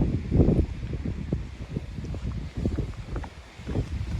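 Gusty wind buffeting the microphone on top of White Cap Mountain on the Appalachian Trail, a close, uneven rumbling in loud bursts that ease and return, with no talk.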